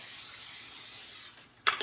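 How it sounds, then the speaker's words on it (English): Nonstick cooking spray hisses into a casserole dish in one steady, close burst of about a second, then a short second puff follows. "we're just going to spray a little bit of the nonstick spray on here just in case"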